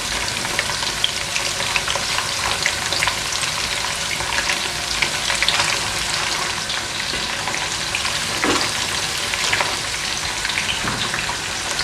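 Onions frying in a pot for pilau, a steady, dense sizzle that holds at an even loudness throughout with faint crackles, no voices.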